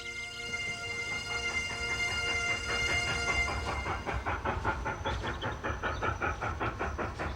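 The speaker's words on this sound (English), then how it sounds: "One way to see the glories of the western coast is behind a steam locomotive, in this case a K1 class engine running from Fort William to Mallaig." A K1 class steam locomotive on the line from Fort William to Mallaig on Scotland's western coast, heard close: a sustained whistle-like tone and steam hiss give way to a rhythmic chuffing beat, loud and alone.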